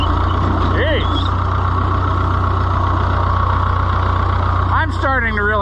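An Oliver 1365 tractor engine runs at a steady, loud idle with a low, continuous rumble, while brief voices and faint squeaks come in near the end.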